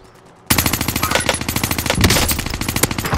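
Rapid automatic gunfire in Warzone, likely a Vargo 52 rifle, starts abruptly after a brief quiet moment and runs as a steady close, loud burst of evenly spaced shots, with a heavier blast near the middle.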